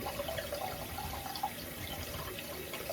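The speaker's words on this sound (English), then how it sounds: "Just cleaning the brush right now." Tap water runs and splashes steadily while a shaving brush is rinsed in a sink, with a few small bright drips and gurgles over a continuous flow.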